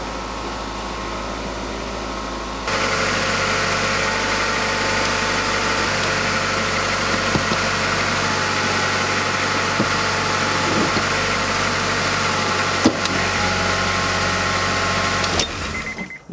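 A 1990-1997 Honda Accord engine starts up and settles into a steady idle, a close, even hum with a faint whirring fan and a few light clicks and taps.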